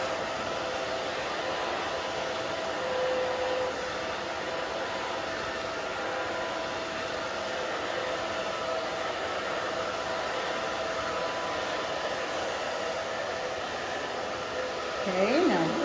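A hair dryer blows steadily on a short pixie cut over the ears, a constant loud whooshing hum across the whole stretch with a slight rustle near the end.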